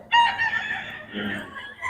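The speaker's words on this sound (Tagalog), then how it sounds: "Ayan mga manok ni Boss Ga" A rooster crows loudly and close, a long strained call, with other chickens clucking faintly around it.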